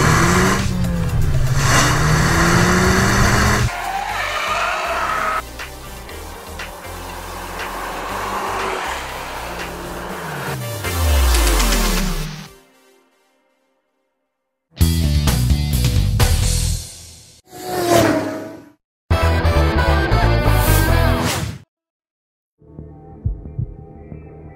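A Ferrari 488 GTB engine revs hard on a track, loud sweeping bursts of acceleration and gear changes that cut off abruptly several times, leaving brief silences between the blasts.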